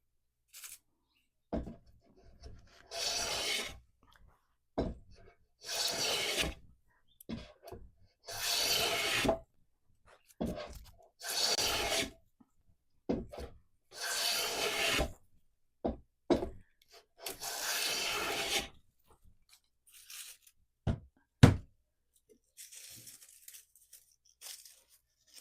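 Hand plane cutting a bevel on wood, drawing off thin, full-width shavings in a series of short, crisp rasping strokes separated by pauses, close and fairly quiet.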